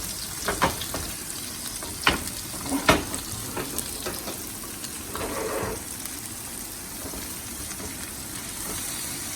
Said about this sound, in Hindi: थोड़ा से ऑयल में फ्राई कर लेते हैं